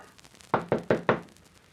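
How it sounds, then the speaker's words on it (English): Four firm raps on a wooden door, evenly spaced and close, sounding alone in an otherwise quiet room in an old radio adventure drama. "he heard a rap on the door"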